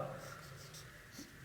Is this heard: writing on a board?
yes